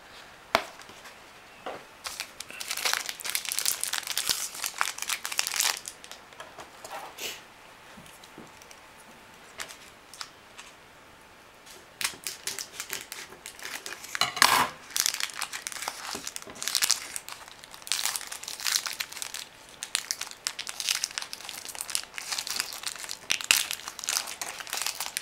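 Crinkly crumpling and tearing of a pack of 2012 Panini Prime Signatures football trading cards being opened, a busy run of close, moderately quiet rustles and snaps with no talking.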